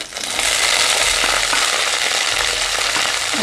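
Capsicum and ginger sautéed in a pan for restaurant-style chilli gobi, giving a loud, steady sizzle with frying crackle throughout and occasional stirring scrapes, no voices.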